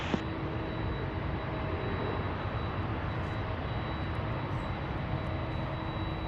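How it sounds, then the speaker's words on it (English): A Boeing 757 jet takes off from runway 16 left at Seattle-Tacoma airport, a steady, broad engine roar that holds level and continuous with no voices. "757, 16 left, clear takeoff."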